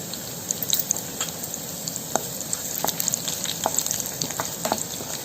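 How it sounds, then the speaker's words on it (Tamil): Curry leaves, crushed garlic cloves and a lump of asafoetida frying in oil for a shallot kara kulambu, a continuous close crackling sizzle with scattered small pops and light utensil taps. "இதெல்லாம் நல்லா வறுக்கணும்."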